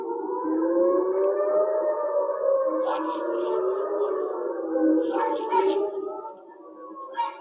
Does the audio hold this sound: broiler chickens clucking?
no